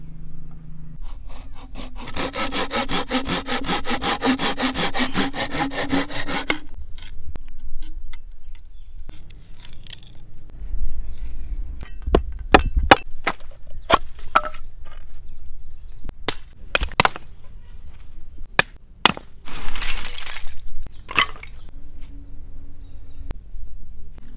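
Bamboo is sawn and shaped into a plate, starting with several seconds of steady rhythmic rasping strokes, then quieter scraping and a run of sharp knocks and taps up close.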